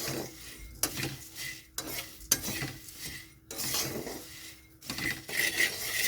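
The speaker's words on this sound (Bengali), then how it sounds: "ভালো করে কড়াইতে যদি মুড়িটা গরম করে নেওয়া হয়" Puffed rice being stirred and toasted in a kadai to crisp it up, heard as a run of scraping, rustling stir strokes in uneven bursts, close and fairly steady, with no voices.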